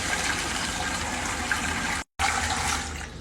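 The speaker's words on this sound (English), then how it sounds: "Do you know a colander will not hold water?" Water gushes steadily through a colander in a broad, close rush, cut by a brief silent gap before the flow resumes and slowly tapers.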